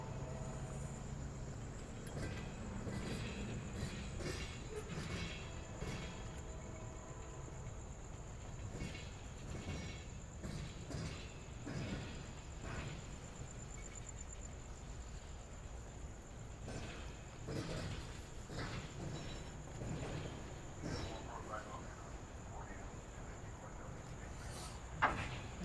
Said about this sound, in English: All right, we have a CSX on approach.